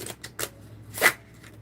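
Quick riffling bursts of a deck of cards being shuffled, several short rustles ending in a louder snap of cards, close and quiet otherwise.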